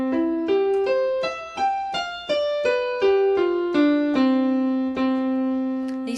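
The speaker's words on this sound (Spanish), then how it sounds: "quiero que escuches la escala larga y la escala larga suena así" A single voice sings a long vocal warm-up scale, sustained sung notes stepping upward then back down in an even rhythm, clear and close, with no other sounds.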